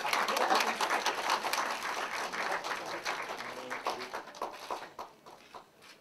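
Applause from an audience at an award ceremony for an education council's anniversary general meeting, dense clapping that starts loud and thins out toward the end.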